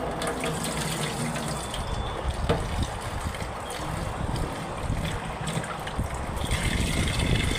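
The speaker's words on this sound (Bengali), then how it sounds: "আবারও কচলিয়ে ধুয়ে নিচ্ছে পানি দিয়ে" Water splashes and sloshes steadily as taro is rubbed and rinsed by hand, a continuous wet churning with no voices.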